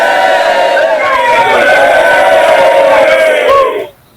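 Players at a role-play session shout a drawn-out, overlapping cheer together, loud and close, lasting about three and a half seconds before cutting off.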